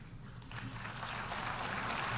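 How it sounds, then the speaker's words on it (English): Applause from an audience at a United Nations General Assembly address, a modest, steady patter of clapping that builds slightly and holds at a moderate level for a couple of seconds with no voices over it. "He's not even getting, like, decent applause."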